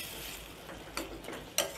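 Tomatoes sauté in a pan for South Indian tomato gravy, giving a soft steady sizzle with a few brief scraping stirs. No one speaks.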